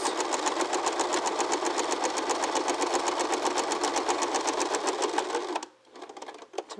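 A sewing machine stitching a fabric pumpkin luminary runs in a fast, steady rhythmic chatter for several seconds, close and loud, then stops abruptly and leaves faint handling noise.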